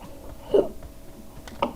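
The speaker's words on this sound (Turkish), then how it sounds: "Allah hıçkırık tuttu ne yapacağım ben?" A person playing PUBG gets the hiccups, with two brief, moderately loud hiccups about a second apart over quiet background.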